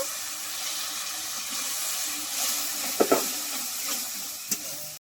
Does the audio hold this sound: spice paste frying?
yes